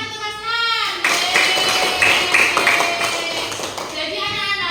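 A class of children applauds, a loud, dense burst of clapping lasting several seconds, framed by a teacher's voice before and after.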